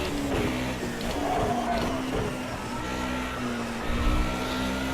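A 1991 Mercedes 190E Evo 2 DTM race car engine running continuously, a loud throaty drone with slight rises and falls in pitch as it drives through a tricky downhill section toward an uphill stretch.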